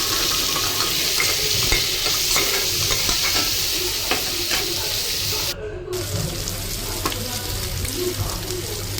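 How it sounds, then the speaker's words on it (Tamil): Onions and tomatoes sautéing in a pan, with a steady sizzle and the scrape of stirring running throughout, close and fairly loud, with a brief dropout partway through. "2 தக்காளியும் போட்டு அதையும் மிக்ஸ் பண்ணி வதக்கி விட்டுருங்க"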